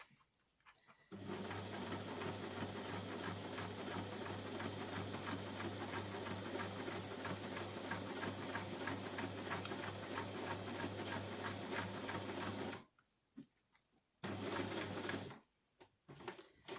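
A sewing machine runs in one long continuous stretch while stitching reusable snack bags, a close steady buzzing whir with a low hum, then stops, followed by one short burst of stitching and silence.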